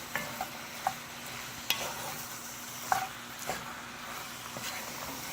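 Beef browning in a pan for stroganoff, a steady moderate sizzle with regular spatula stirs and scrapes tapping at intervals, no voices.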